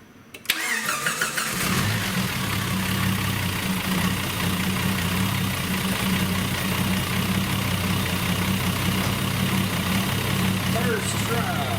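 Jeep Cherokee XJ with a 4.6 stroker turbo engine cranking briefly, then catching and settling into a loud, steady idle up close in a garage, a continuous rumble with a person speaking over it.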